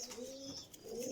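Pigeons kept in a loft with eggs and young squabs coo softly and continuously in low, rolling phrases, faint and steady with light background hiss.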